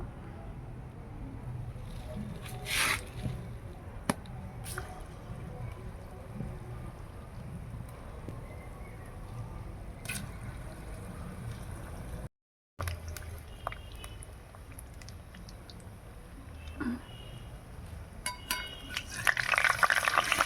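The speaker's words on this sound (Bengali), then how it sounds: "তেল গরম হয়ে গেছে এবার আমি এগুলো গোল গোল করে বড়াগুলো ভেজে নেব" Oil sizzles and crackles steadily in a pan as palm fruit fritters fry, with occasional clinks of a utensil and a brief gap, some faint background noise throughout.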